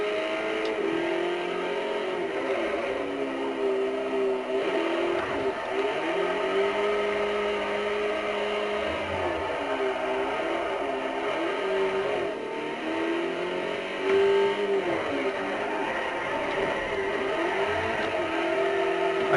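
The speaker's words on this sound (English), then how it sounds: "I'm just going to like drive the car backwards on the track, get a kind of feel of it" Car engine in Forza Motorsport 4 driven backwards around a track, a steady loud drone with rising and falling pitch as the revs climb and ease, continuous throughout with no talking.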